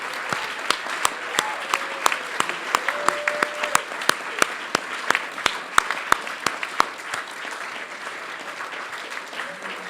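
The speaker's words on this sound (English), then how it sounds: "Let us give one more wonderful round of applause to our honorees" Sustained round of applause from a seated dinner audience honoring award recipients, a continuous bed of clapping with sharp individual claps popping out near the listener, and faint voices underneath.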